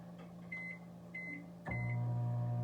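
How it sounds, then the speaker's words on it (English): A microwave oven heating butter: three short electronic beeps as buttons are pressed, then a steady low hum as the oven starts running, close and fairly quiet. "I'm gonna stick this in the microwave for a minute"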